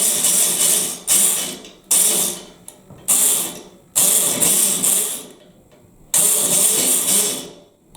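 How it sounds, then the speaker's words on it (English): An electric lock pick gun working against a lock's pins, buzzing in loud bursts of about a second that start abruptly, fade, and stop between short pauses, close up and alone. "Moving the gun in and out to act on the pins, not all at the same time"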